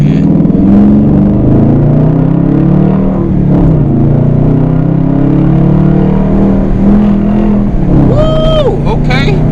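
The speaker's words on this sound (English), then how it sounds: "let me roll the windows down real quick so we can hear this thing revving up" A Dodge Challenger R/T's engine droning steadily from inside the car with the windows down, a continuous loud rumble that rises at the end with a high whine, as people talk over it.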